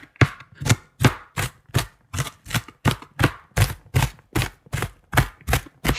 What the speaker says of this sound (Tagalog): hiwain din natin yung kamatis sa manipis na sukat